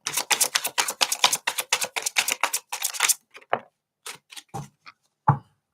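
Tarot cards shuffled in a somewhat messy way, giving a fast run of sharp, dense riffling snaps for about three seconds, then a few scattered slaps and taps as the deck is squared up, close and alone.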